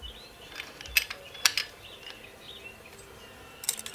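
A wrench loosens the intake valve lash adjusting nut on a Toyota B or 3B diesel engine, giving a few sharp metallic clicks at close range in a quiet setting.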